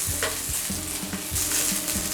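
Red shimeji mushrooms stir-fry in beef tallow in a hot pan, a steady sizzle broken by rhythmic scraping strokes of a spatula at close range.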